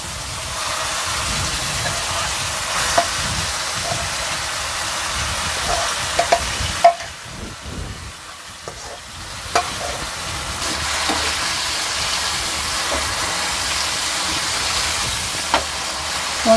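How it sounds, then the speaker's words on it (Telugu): Mixed leafy greens stirred into a hot tempering in a pan for a healthy vegetable-leaves dish, giving a steady close sizzle with scraping stir strokes throughout, briefly quieter in the middle before the frying hiss returns. "చూడండి తాలింపు వేగిపోయింది. ఇప్పుడు మనం ఇదంతా మిక్స్ చేసింది వేసేద్దాం ఆకుకూర అంతా."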